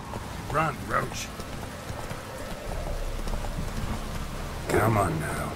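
Roach the horse galloping through rain in The Witcher 3: rapid hoofbeats over steady rainfall, with brief shouted voices at the start and near the end.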